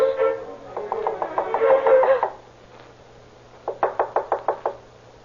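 Sharp knocks rap on an outside door in an old 1936 radio drama. A long run of steady raps comes first, then a pause, then a second group of about seven evenly spaced knocks. The sound is close and hollow, over a faint broadcast hum.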